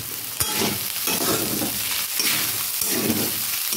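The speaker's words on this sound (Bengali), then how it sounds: "দিয়ে আবারও আমি এটা নাড়তে থাকবো" Broccoli pasta seasoned with salt, black pepper and soy sauce sizzles loudly in a pan while a utensil stirs it in repeated sweeping strokes, heard up close and without speech.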